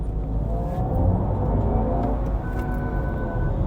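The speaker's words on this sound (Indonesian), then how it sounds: "Kalau kita coba yang dynamic, lebih bergemuruh dia." Kia EV6 2023 electric car in dynamic drive mode producing a synthetic rumbling acceleration tone, a steady low droning hum that swells slightly and stays loud throughout with no talking.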